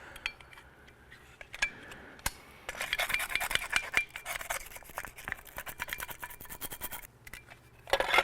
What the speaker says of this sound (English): I can use my plastic brush to come back in and clean it off